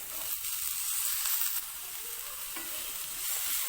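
Onion, cabbage and capsicum frying in a pan for a Spanish omelette, a continuous close hiss and sizzle with soft stirring scrapes.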